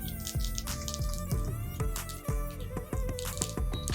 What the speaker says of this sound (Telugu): 1 టీ స్పూను ఆవాలు వేద్దాం. ఆవాలు పేలుతాయి.